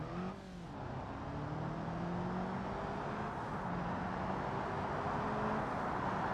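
A 143-horsepower, 1,250-kilogram BX series car in BeamNG Drive accelerates hard toward a mega ramp, its engine note climbing steadily through rising gears in a loud, continuous drone with no talking.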